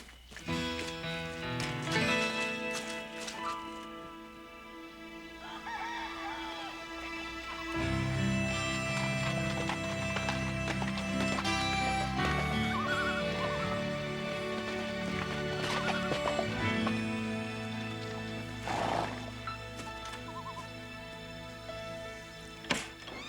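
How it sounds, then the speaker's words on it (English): Horses neigh and whinny amid a busy mix of music and background sound, with hooves clip-clopping at a moderate pace through a Western drama scene. "Otto, saddle up the horses."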